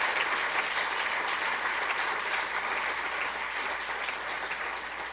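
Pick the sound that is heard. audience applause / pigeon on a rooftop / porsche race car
audience applause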